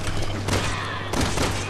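Fully automatic gunfire in Resident Evil 6 rattles in a dense, continuous burst, loud and close, with a slight surge partway through and no clear talk over it.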